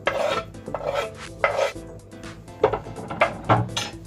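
Spoon stirring chopped coriander leaves into dal curry in a pot, with repeated scraping and clinking strokes against the pot in an uneven rhythm, close and fairly loud.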